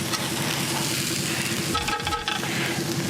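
Garlic hits a pan of softened onions and capsicum over a campfire outdoors, with a continuous loud sizzle and a brief clatter of stirring midway, close and without talk.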